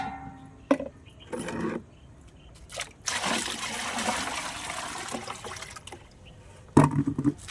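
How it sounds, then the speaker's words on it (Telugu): Five litres of water are poured into a container while making liquid fertilizer for flowering plants, giving a steady gushing pour that runs for several seconds between short trickles and sloshes, with no talking. "5 లీటర్ వాటర్లు పోసేస్తానండి"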